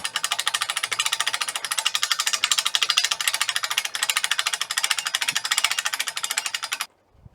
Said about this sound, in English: Two-speed ratchet. Pretty fast there.